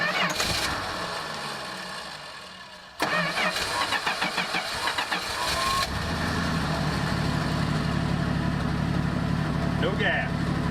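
A 1984 Dodge RAM D100 pickup with a new distributor cap and rotor cranks briefly, then catches with a sharp burst and settles into a rough, steady idle, loud and close, running without a belt.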